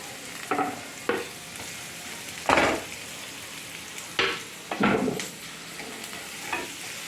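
A spoon stirring egg curry in a pan, giving several separate scraping, clinking strokes over a soft steady sizzle, close and moderately loud, with no talking.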